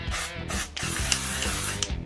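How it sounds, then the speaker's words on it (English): White-coloured Superdrug hairspray sprayed onto hair during body art, several close hissing bursts in quick succession with short pauses between. "So I've got these from Superdrug, which is a white colored hairspray."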